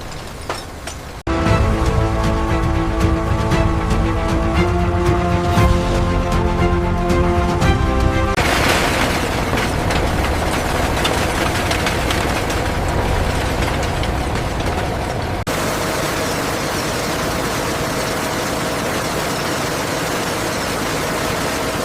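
The main burner of an industrial furnace in a brass tap factory ignites from scrap brass pots, a sudden loud roar with mechanical tonal hum that shifts into a broad, dense rushing roar lasting many seconds.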